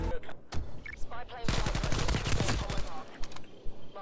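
AK-74U automatic fire in the video game Call of Duty Black Ops Cold War: loud, sharp bursts that build into a long dense stream of rapid shots, with scattered game effects around it.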